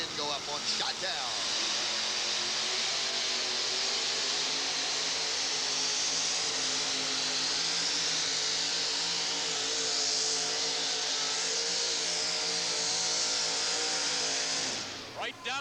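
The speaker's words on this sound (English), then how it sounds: "Mike cleans the motor out real well, and watch the front end go up on Chi-Town." Funny car engine roaring at full power while pulling a weighted sled down the track at a truck pull exhibition in Pittsburgh, a loud sustained drone lasting nearly the whole stretch before cutting off, with an announcer talking over it.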